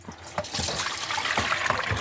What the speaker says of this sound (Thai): เทน้ำออกให้หมด